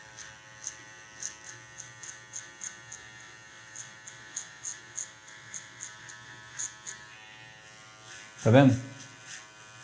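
An electric hair clipper cuts hair for a mid fade with a steady close buzzing hum marked by regular rhythmic pulses, and a voice briefly speaks near the end.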